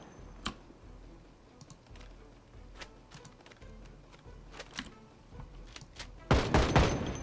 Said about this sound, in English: That's some bump stock action. You heard that. That was an accidental 4-shot burst.